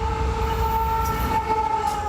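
A fairly fast, short freight train rolls past a crossing with a steady rumble and a sustained tonal hum or horn, close and loud for the whole stretch.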